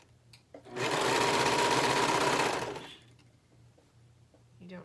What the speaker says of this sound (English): There's no need to cut them apart at this point. Just keep sewing.